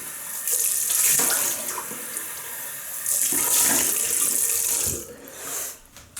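Tap water runs into a sink as a shaving brush is rinsed, two loud bursts of gushing flow with a brief lull between them, then a shorter splash as the stream is cut.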